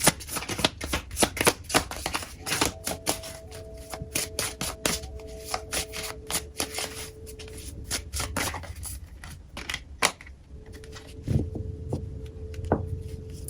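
Tarot cards from the Dead Weight deck by Tarot Collectibles being shuffled close up, a long run of rapid riffling snaps and soft rubbing strokes, steady and crisp with no voices.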